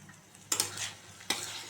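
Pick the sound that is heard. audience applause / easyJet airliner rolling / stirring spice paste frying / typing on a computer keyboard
stirring spice paste frying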